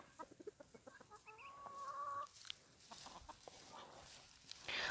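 Free-range hens cluck in a farmyard with a series of short, close clucks and a drawn-out squawk, other birds calling faintly in the background.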